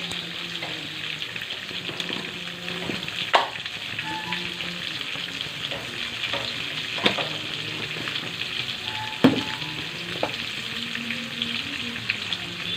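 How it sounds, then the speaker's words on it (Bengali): Spices frying in oil in a pan for a curry of roe-laden hilsa fish, a steady close sizzle with occasional clinks and scrapes of a spoon against the pan throughout. "ভালো করে একটু ভেজে নিই"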